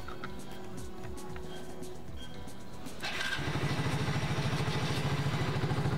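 A motorcycle fitted with a one-touch self-start engages its starter and fires up around the midpoint, settling into a steady, close, rhythmic idle with no talk.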